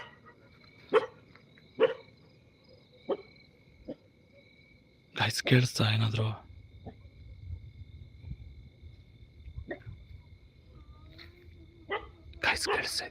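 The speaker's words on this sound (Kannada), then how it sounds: "ಗೈಸ್ ಏನೋ ಕೇಳಿಸ್ತು, ಈ ನಾಯಿಗಳು" Dogs bark at night near a cemetery: scattered, sharp, fairly distant barks every second or so, then a louder burst of barking, while someone speaks quietly between them.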